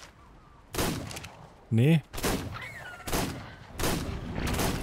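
Revolver shots in ARK: Extinction ring out in sharp, loud bursts, four or five spaced about a second apart, with a brief spoken interjection between them.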